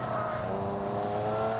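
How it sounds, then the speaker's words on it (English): A BMW E36 race car with a relatively stock engine runs at a racetrack, a steady, rich engine tone held at constant revs, moderately loud and unbroken over a short stretch. "E36 sounds like a relatively stock engine in this car."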